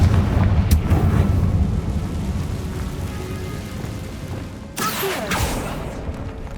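Confringo fire spell blasting in Hogwarts Legacy, a rumbling roar of ambience broken by a sharp, bright explosive burst near the end that trails into crackling debris.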